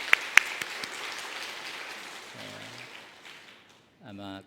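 A church congregation claps in applause, a dense patter spread across the room with a couple of sharp claps early on, fading out before a voice and a musical tone enter at the end.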